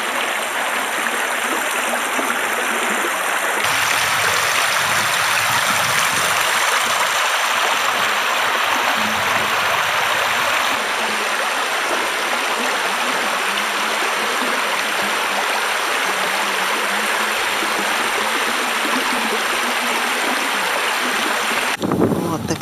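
The Russkaya river in Taymyr streams past a hut beneath a mountain slope, a loud, steady rushing of flowing water that fills the scene without pause.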